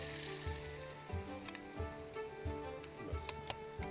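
Dal poured into a hot pan for dal chawal, crackling and sizzling steadily with a few sharper pops, close and fairly loud, no voices.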